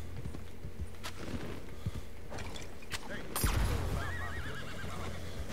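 A horse in Red Dead Redemption II lets out a loud, wavering whinny after a few scattered hoof clops and thuds, with a heavy impact just before the neigh and a low rumbling background.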